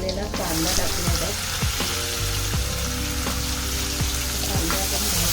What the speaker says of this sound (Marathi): हिंग टाकूया। हा चिरलेला कांदा टाकूया।